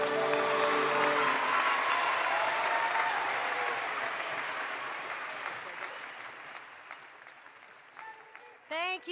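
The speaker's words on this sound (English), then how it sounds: "Let's give them another huge round of applause." Crowd at a secondary school graduation ceremony claps loudly at first, the applause slowly thinning and fading, with a voice starting to speak near the end.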